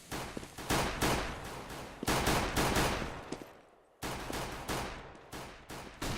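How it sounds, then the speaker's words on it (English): Rapid gunfire bursts crackle through a competitive Counter-Strike match, several loud volleys of shots one after another, heard alone without talk. "Device firing off some shots into the terrace"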